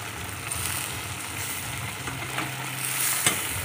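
Chicken legs with pineapple frying in a pan while being stirred, a steady close sizzle with soft scraping and one sharp clink near the end, and no voices.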